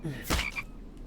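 A single frog gives one short, raspy croak in a survival video game, close and clear, over a quiet outdoor ambience.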